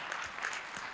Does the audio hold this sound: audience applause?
yes